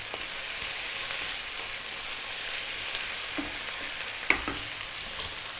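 Garlic ginger paste sizzles in a pan while a utensil stirs it, a soft continuous fry with occasional scrapes and clicks of the spoon.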